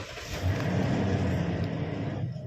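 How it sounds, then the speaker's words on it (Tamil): A car engine runs loud and close at a steady, even idle through the whole stretch, with no other sounds over it. "வண்டியை ஸ்டார்ட் பண்ணுவோம்."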